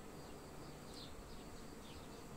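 Honeybees from an overwintered colony with nine frames of brood drone steadily around an opened hive toward evening, a faint, even buzz with no break throughout.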